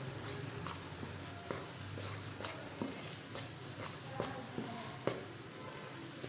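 Gram flour (besan) frying in ghee for egg and besan halwa, giving a steady soft sizzle broken by occasional scraping stirs of a spoon in the pan, fairly quiet and with no talking.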